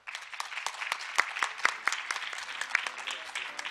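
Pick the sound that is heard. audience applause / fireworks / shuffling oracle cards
audience applause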